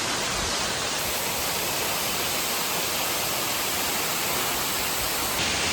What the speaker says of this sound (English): That waterfall is pretty cool.